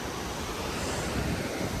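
Cold, clear mountain water flows along the Everest Base Camp trek in Nepal, making a steady, dense rush that stays close and even throughout, with no voices.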